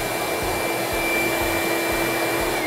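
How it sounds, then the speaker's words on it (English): A saw's dust extraction keeps running after the saw is switched off in a woodworking shop, a steady, loud airy whoosh with a low rumble that holds without a break and no voices. "when I turn the saw off, it goes for like 7 seconds, make sure it gets everything sucked out"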